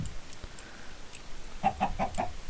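Minecraft chickens clucking, four short clucks in a quick run toward the end, moderately close over faint background noise.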